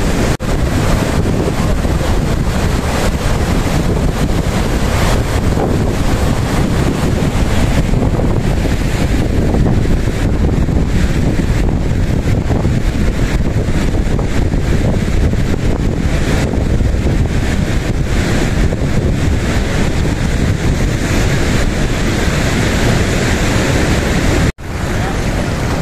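Strong sea water surging at the shore with heavy wind buffeting, a loud continuous roar of waves and gusts filling the whole stretch with no speech.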